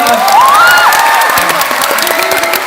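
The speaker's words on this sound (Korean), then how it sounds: "우리 오늘 용기를 내주신 선생님들한테 큰 박수 한 번 부탁드립니다" A middle school audience at a school festival claps and cheers for teachers appearing in a uniform fashion show, a dense, loud wash of applause with children's shouts and whoops running steadily throughout.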